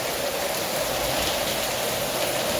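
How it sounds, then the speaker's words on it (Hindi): Heavy rain pours down in a steady, dense hiss close by, unbroken and loud throughout with no voices. "बहुत तेज़ बारिश हो रही है"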